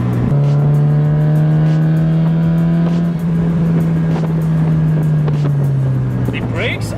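A Mazda Miata NB with a newly fitted engine idling through its stock exhaust, a loud steady drone with a low hum that holds even and then sags slightly near the end.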